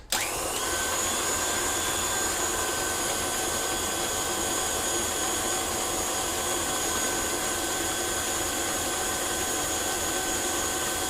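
An electric whisk runs steadily through vegan chocolate cake batter in a home kitchen, a loud continuous motor whirr with a high whine that starts abruptly and holds unchanged throughout.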